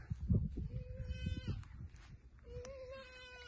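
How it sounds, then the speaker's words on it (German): A sheep bleats a few times, wavering and nasal, over rustling and shuffling noise nearby. "So blökt nur sein kleines Schaf."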